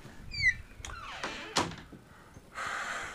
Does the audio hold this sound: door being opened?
yes